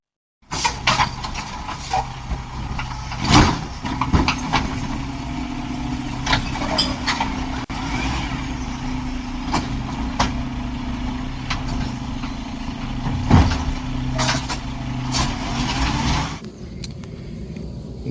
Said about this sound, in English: the bin survived the first round with the big blue truck